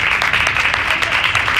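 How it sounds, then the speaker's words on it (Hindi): An audience at an annual school ceremony claps steadily, a dense close wash of applause that runs throughout the short stretch. "इस पर वैसे आमीन कहना चाहिए था बजाय तालियां बजाने के।"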